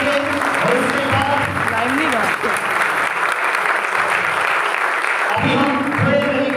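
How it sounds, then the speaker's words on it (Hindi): Loud, continuous clapping from a church congregation at a Christmas service, with voices calling out over it and a brief dip before the applause swells again. "तो आइए यीशु के जलाल के लिए हम जोरदार ताली बजाएंगे"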